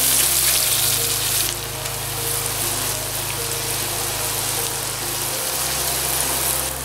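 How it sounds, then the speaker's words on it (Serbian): Chopped spring onion and garlic frying in a pan, a continuous dense sizzle heard up close with no voices, over a low steady hum that drops away in the middle. "Dodajem mladi crni seckani luk i dodajem beli luk. I sve ću to sada zajedno pržiti jedno 3 do 4 minuta"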